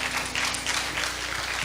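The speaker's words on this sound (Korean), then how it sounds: "박수." A church congregation applauds during a Sunday worship service, a steady wash of clapping hands that holds at an even level for a short stretch.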